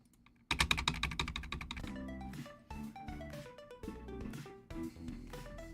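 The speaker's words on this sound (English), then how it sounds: "I'm gonna use the keyboard and mouse this time" Computer keyboard typing starts abruptly with a rapid run of clicks, then continues in uneven bursts of keystrokes, close and fairly clear.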